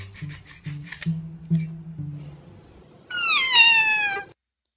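A kitten squeals loudly in a short played-back clip, a sustained high-pitched wavering cry near the end, preceded by soft rhythmic rasping and scratching sounds and low tones.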